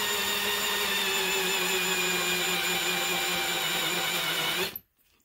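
A BPI roll crimper working a shotgun shell, a steady whirring, grinding drone held loud and close for nearly five seconds before cutting off abruptly into near silence.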